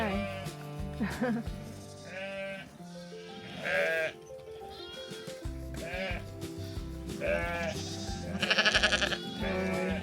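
A flock of sheep bleats repeatedly outdoors at a campsite in Wasdale, England, many overlapping calls near and far, with some people talking underneath.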